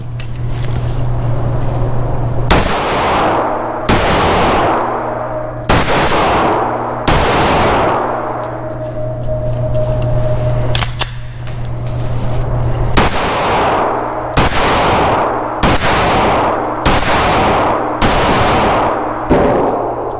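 A Taurus GX4 pistol fires MagTech 115-grain range ammo at 7 yards: a string of about a dozen loud, sharp reports in uneven bursts, each followed by a brief ringing tail, with no talking.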